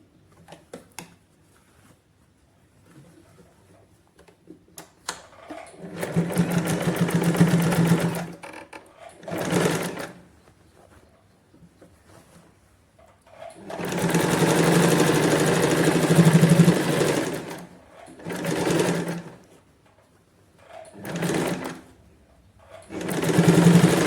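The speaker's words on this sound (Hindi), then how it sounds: "अब हम इसके ऊपर सिलाई लगा लेंगे" Sewing machine stitching a katori blouse with puff sleeves, running in several loud bursts of steady whirring separated by short pauses, with no talk.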